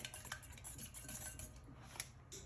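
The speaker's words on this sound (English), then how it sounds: "So I'm going to whisk all these up of the eggs" Eggs whisked in a bowl with a utensil for a baked mac and cheese, a steady run of light scraping and clinking strokes, close and moderately loud, with no talking.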